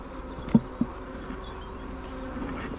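Honey bees buzz around hives in an apiary where colonies have just been split, a soft continuous drone with a couple of brief louder bumps near the start and no speech.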